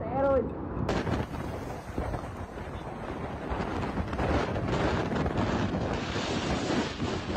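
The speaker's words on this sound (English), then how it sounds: "Wind gusts of up to force 14 raised gigantic waves." Typhoon Bualoy's strong wind roars and buffets the microphone in Vietnam, with heavy rumbling gusts and surf-like crashing filling the whole stretch; a faint voice appears briefly.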